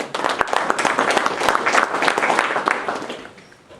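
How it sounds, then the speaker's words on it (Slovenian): Audience clapping after a round-table discussion on farming, a dense burst of many hands applauding nearby that fades out toward the end. "mislim, da se tudi oni zaslužijo en aplavz za organizacijo današnje okrogle mize"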